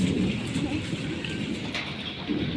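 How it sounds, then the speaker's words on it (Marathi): Steady, heavy unseasonal rain pours down continuously in the Konkan region, a dense hiss of drops on surfaces with a low rumble underneath. "आज येत ह्यो अवकाळी पाऊस"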